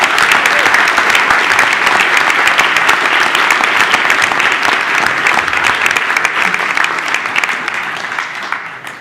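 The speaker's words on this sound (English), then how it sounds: "Please join me for a round of applause for these students and the teacher leading this advanced pathway." Sustained audience applause fills a school board meeting room, loud and steady throughout before tapering slightly at the end.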